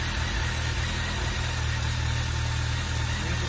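A Honda CB1300 motorcycle engine idles close by with a steady, even low rumble and constant vibration, heard alone without voices.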